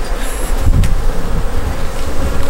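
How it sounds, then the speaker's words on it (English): Dense swarm of honey bees buzzing close around an open hive box, tens of thousands in the air, a steady loud drone with no pauses. "You can see all these bees over my head."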